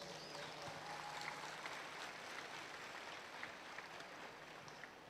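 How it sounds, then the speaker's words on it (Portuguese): Audience at a Catholic preaching event in Angola applauding the priests, a steady wash of clapping held at an even level throughout, fairly distant and diffuse, with no voices over it. "Obrigado, Padre. Aplauda os sacerdotes."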